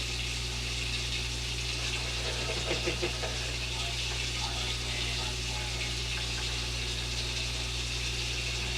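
Running water pours steadily as a non-stick pan is washed under a tap, a constant splashing rush over a low mechanical hum, with faint scrubbing and no clear talk.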